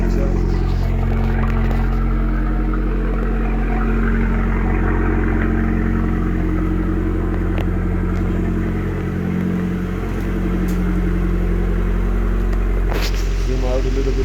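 Abarth 595c convertible fitted with a Record Monza stage 2 exhaust, a steady loud engine drone and rumble while driving, with a slight swell near the middle, heard from inside the car.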